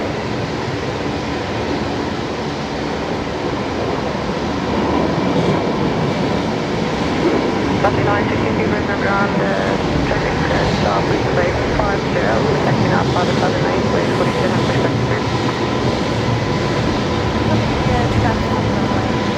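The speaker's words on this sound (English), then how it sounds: "We'll come back to Qantas 631 because we do have an alliance in Brea rolling here on runway left." An Alliance airliner rolls down the runway at Brisbane Airport, a steady, broad roar of engine and rolling noise that holds at a constant level throughout, with talk mixed in over it.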